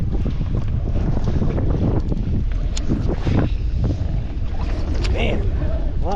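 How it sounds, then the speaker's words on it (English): Strong wind buffets the microphone outdoors on open water near a boat, a continuous loud rumbling roar with gusts throughout, while a person talks over it. "Man, a lot windier than I thought actually"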